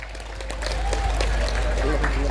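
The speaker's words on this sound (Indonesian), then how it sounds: "tepuk tangan" Audience applause at a madrasa graduation ceremony honoring students who completed memorizing the Quran: a brief, steady burst of crowd clapping that swells slightly and holds, with a background murmur.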